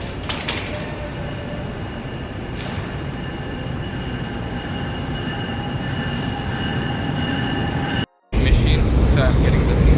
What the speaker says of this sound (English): it's the NJ Transit train which is coming